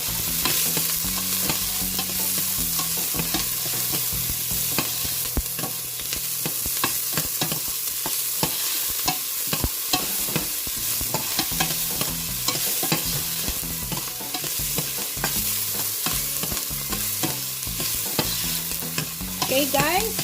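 Onions sautéing in oil in a pan for clam and tamarind soup, a steady close sizzle with frequent stirring scrapes throughout and no voices.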